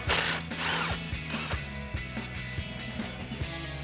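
An 8mm bolt comes off a 2009-2014 Ford F-150 suspension with a socket and ratchet, giving a run of rapid clicking ratchet strokes up close, steady and mechanical, with no talk.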